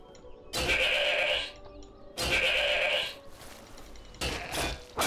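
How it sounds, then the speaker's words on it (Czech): A sheep in The Elder Scrolls IV: Oblivion bleating three times in long, wavering cries separated by short pauses, loud and close with no speech over it. "Oh, beránek. Ovečka."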